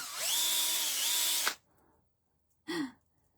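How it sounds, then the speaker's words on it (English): A power drill boring a hole in a cork, a loud steady whine lasting about a second and a half that stops abruptly, followed by silence and a short, softer burst near the end. "Okay, so then I've drilled my hole down in my cork."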